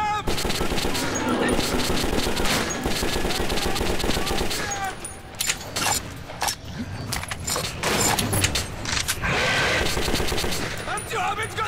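Sustained automatic gunfire in the shooter game Metro 2033, with dense rapid bursts at first, then scattered single shots and clanks amid the action, loud and close.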